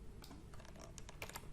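Someone types a short run of keystrokes on a computer keyboard, soft and close, with a few quick clicks spread over a second and no talking, in a quiet room.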